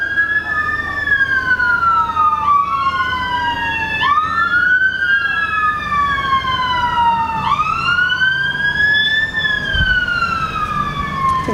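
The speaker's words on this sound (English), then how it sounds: "I think that's a fire engine." A fire engine siren wails loud and steady outside, sweeping up and down in long repeated cycles with a second tone layered over it, while traffic rumbles faintly underneath.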